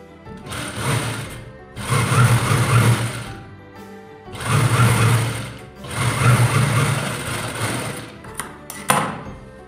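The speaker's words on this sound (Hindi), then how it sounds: "जितने पिन लगे हुए हैं सबको हमें इसी तरीके से करना है सिलाई।" A sewing machine stitching a churidar salwar runs in three long loud bursts of rapid mechanical chatter, close by, separated by brief pauses and a few handling clicks at the end.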